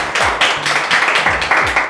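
A studio audience gives a short burst of applause to welcome a singer to the stage at a Christian music show, with dense, brisk clapping that stays fairly loud and near throughout the brief moment.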